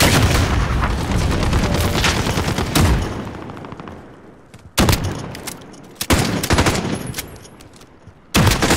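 Gunfire in the video game Call of Duty Modern Warfare: loud sustained automatic bursts for about three seconds, then sparse single sharp shots spaced a second or more apart, close and dominant.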